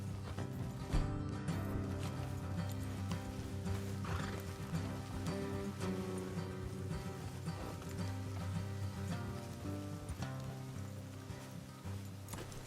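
Horses whinny and hooves clop steadily over a dense, continuous soundtrack of music and ambience in Red Dead Redemption II on PS4, with no talking.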